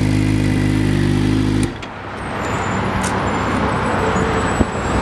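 A 2013 Suzuki GSXR 600 motorcycle engine running, a loud steady humming drone that cuts off sharply after about two seconds into a rougher, lower rumble that continues close by.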